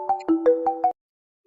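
Phone ringtone during a live call, five quick melodic electronic beeps ending abruptly, close and clear with no talk over it.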